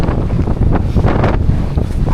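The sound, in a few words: strong wind on a mountaintop at Preikestolen, Norway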